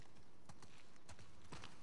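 Horse hooves clip-clopping on the ground in The Last of Us Part 2 video game, a quick irregular series of hoof strikes at walking pace, close and clear over a steady background noise.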